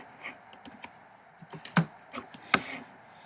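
Scattered keystrokes on a computer keyboard tap out a short word, light clicks with two sharper, louder presses, close up and without speech.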